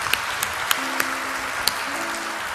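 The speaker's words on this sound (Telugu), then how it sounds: "నేను చప్పట్లు కొట్టుమనక ముందే మీరు కొట్టేసినారు" A church congregation clapping hands, a steady even wash of distant applause with a few sharper individual claps standing out, no voices.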